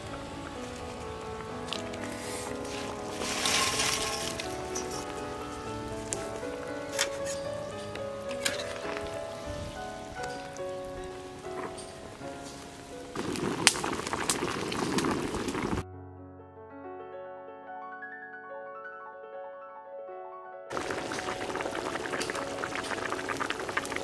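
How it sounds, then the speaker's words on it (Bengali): Fried lentil-cake pieces go into a pot of simmering boiled potatoes, giving a soft bubbling and liquid churn. Quiet background music plays throughout, with a short stretch where the bubbling drops out. "আলু সিদ্ধ হয়ে গেছে, এবারে আমি ভেজে রাখা টুকাগুলো তুলে দিচ্ছি।"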